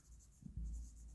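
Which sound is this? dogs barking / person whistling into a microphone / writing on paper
writing on paper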